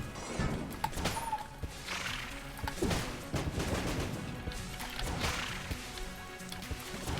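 Enemy gunfire in the video game Enter the Gungeon comes in rapid bursts of shots and impacts, mixed with thuds and crashes at a moderate, busy level, with no one speaking.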